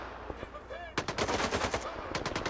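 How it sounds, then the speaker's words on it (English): A 9mm submachine gun fires in a video game, with rapid automatic bursts of sharp, loud shots starting about a second in after a quieter opening. "It's not an MP7, it is a 9mm submachine gun."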